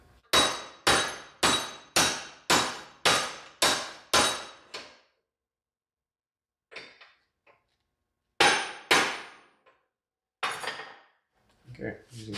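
Sheet metal for a scratch-built 1940 Ford coupe-inspired hot rod body being hammered on a wireframe buck: nine sharp, ringing metallic blows in a steady rhythm, a pause, then a few more strikes, close and loud.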